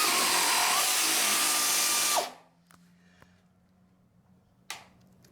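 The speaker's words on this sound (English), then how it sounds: "I'm doing that because I'm letting off the trigger" A Harbor Freight air nibbler chatters loudly and steadily as it cuts through sheet metal, then stops abruptly when the trigger is released, leaving a quiet stretch with a few faint clicks and knocks.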